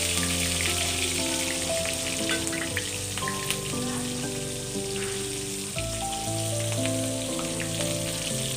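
Finely chopped onion hits hot oil in a pan, giving a steady, close sizzle and crackle like light rain, with a held musical tone running underneath.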